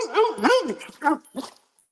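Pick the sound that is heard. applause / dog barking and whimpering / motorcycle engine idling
dog barking and whimpering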